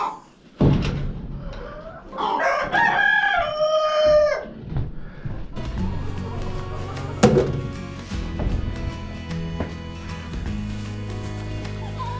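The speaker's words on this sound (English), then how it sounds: "Still feeding chick feed. Some of my young hatchlings." Backyard chickens with young hatchlings on chick feed: a loud, drawn-out crowing call rises early on, followed by a busier mix of clucks and farmyard noise.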